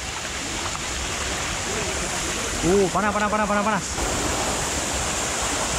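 Steady broadband rush of a hot spring waterfall throughout, with a voice briefly speaking over it midway.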